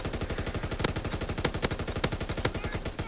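Automatic gunfire from a gun in the World War II shooter game Call of Duty: WWII rattles off in a rapid, close, continuous stream of sharp shots, with a few louder cracks standing out among the bursts.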